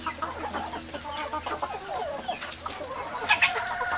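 A rooster brought from Bahia clucks and calls among free-range chickens in a farmyard, a busy run of short, faint-to-moderate squawks and chatter with no talking.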